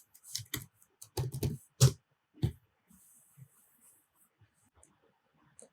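Keys tapped on a computer keyboard while entering a terminal command, a quick burst of close, crisp clicks followed by a few scattered, fainter keystrokes.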